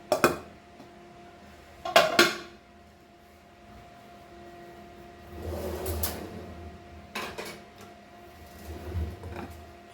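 A metal lid set onto a pot of Goan pearl spot fish curry, sharp clanks and rattles of metal on metal near the start, then softer scraping and clinking shuffles, no one speaking.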